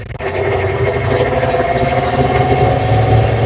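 A 1986 Ford F350 Megacab pickup idles with a steady, loud, low rumbling drone heard from close by, holding an even level for the few seconds without speech.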